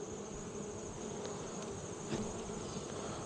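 Honey bees buzz steadily around an open hive in a bee yard, a dense continuous drone filling the space at close range with no talking.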